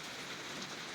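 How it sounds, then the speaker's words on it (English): Steady rain falls on an outdoor yard across a street, a constant broadband hiss of drops with no talk, lasting about a second. "been raining like this all day."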